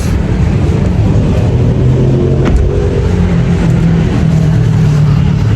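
A car driven by a new driver on a test drive, heard from inside the cabin as a steady low engine and road rumble that holds an even level throughout, with no talking.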